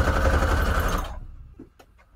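Sewing machine running a straight stitch on scrap paper, a steady buzzing run for about a second that stops abruptly, followed by a few faint clicks.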